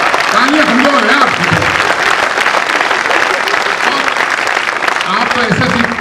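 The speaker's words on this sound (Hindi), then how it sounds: "आप तो ऐसे ताली बजा रहे जैसे आप घर में रोटियां बनाते हैं" A large audience at a Hindi poetry recital (kavi sammelan) claps in sustained, even applause throughout, with a voice talking over the clapping.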